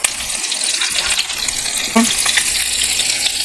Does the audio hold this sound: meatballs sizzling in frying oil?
yes